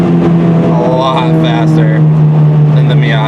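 Loud engine drone from a Dodge Neon SRT-4 during a second-gear pull, a strong steady tone holding up close with brief higher bursts over it, and someone speaking briefly over the noise.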